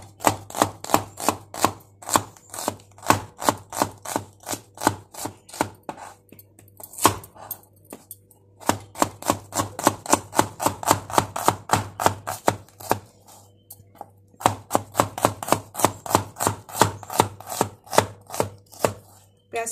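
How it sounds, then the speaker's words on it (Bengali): Rapid, even knife strokes chop onions on a cutting board, close and crisp, in long steady runs with a few short pauses and no talking. "পেঁয়াজটা কাটা হয়ে গেছে আমার, এখন টমেটোগুলো কেটে নেব।"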